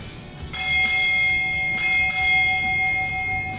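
A ship's bell at a Navy change of command ceremony at Naval Hospital Lemoore rings four clear, ringing strikes in two quick pairs, each tone lingering before the next pair, loud and close with no voices.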